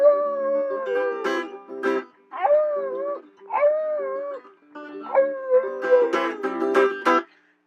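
A dog howls along to a song, giving several drawn-out, wavering howls broken by short pauses over about eight seconds, close and clear with no talking.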